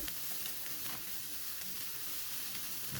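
Carrots, cabbage and green onions sautéing in a pan for chicken spring roll filling, giving a steady close sizzle and hiss that holds even through the whole stretch with no talking.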